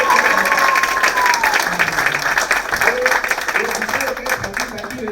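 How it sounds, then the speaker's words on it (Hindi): Audience applause for children after a school play, broad clapping and crowd noise filling the room, loud and sustained, with a faint tone and murmuring voices underneath. "एक बार जोरदार तालियां बजाएं"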